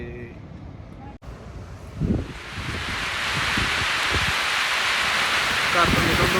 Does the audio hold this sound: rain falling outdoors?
yes